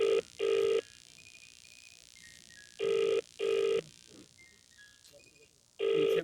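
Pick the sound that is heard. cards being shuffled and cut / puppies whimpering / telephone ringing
telephone ringing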